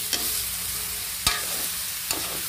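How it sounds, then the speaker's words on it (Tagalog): Meat and bottle gourd (upo) stirred in a pan, a continuous sizzle under three distinct scrapes of the spoon against the pan, close and fairly loud, with no talking. "Haluin natin ng maigi"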